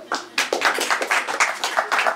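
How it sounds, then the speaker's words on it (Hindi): Audience at a mushaira poetry gathering in Dallas clapping to welcome a poet, a short burst of sparse, distinct hand claps with a slightly uneven rhythm. "ज़रा भरपूर तालियों में आप वेलकम करेंगे शोरा का, शायरात का"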